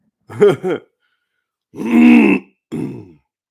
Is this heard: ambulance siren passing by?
no